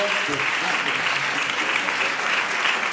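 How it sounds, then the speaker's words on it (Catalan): Dense, sustained applause from a concert hall audience at an orchestral Santa Cecília concert in Quart de Poblet, a loud steady wash of many hands clapping throughout without pause. "un fort aplaudiment"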